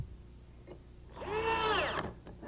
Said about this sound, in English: use the 4 provided drywall screws and shoot them down in to the body